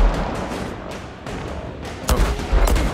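Rapid bursts of gunfire from the shooter game Outriders crackle throughout, booming impacts and explosions thickening near the end, loud with no talk over them.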